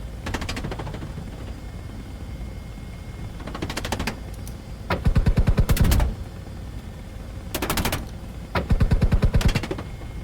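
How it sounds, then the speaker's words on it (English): Rapid bursts of cannon fire from an AH-64 Apache attack helicopter in Microsoft Flight Simulator, several separate volleys of fast rattling shots set over a steady background hum. "Cannon round low."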